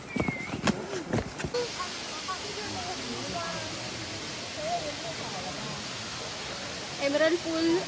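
Water falling from an upper level into a pond below at a birthday outing, making a steady broadband rushing roar throughout, with brief voices and clatter at the start and people talking over it later.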